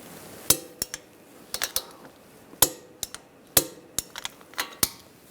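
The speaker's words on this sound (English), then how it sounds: "Now we're going to torque that nut and bolt to 45 foot-pounds." A torque wrench ratchets on a control arm nut and bolt of a 2013-2016 Dodge Dart, giving sharp, close metallic clicks in irregular bursts with short pauses between them.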